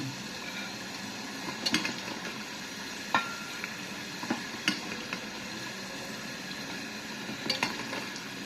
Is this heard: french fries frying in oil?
yes